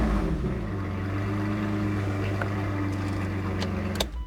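A car exhaust fitted with Ferrari mufflers modified to fit rumbles in a steady, low idle close by, ending with a brief clunk near the close.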